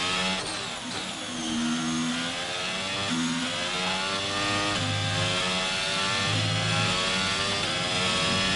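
Race car engine in the F1 22 video game on the Jeddah circuit, a loud, steady, close mechanical drone whose pitch drops and climbs again with several downshifts, with no voices.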